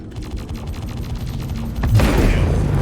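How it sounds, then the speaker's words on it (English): A close explosion in a spaceship combat video game erupts as a loud, sudden burst that swells to a heavy rumble, following a steady pulsing drone of weapons fire and engines. "The explosion was very close and it knocked out our systems."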